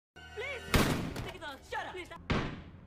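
Two sharp, loud gunshots ring out about a second and a half apart during a shop robbery, with voices and other noise in between.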